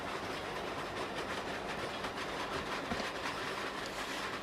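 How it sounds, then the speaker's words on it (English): An F train rumbles through a subway tunnel: a continuous, dense roar of rail noise with faint rhythmic wheel clatter, steady and close, with no voices. "Don't be concerned, it's just the F-train tunnel."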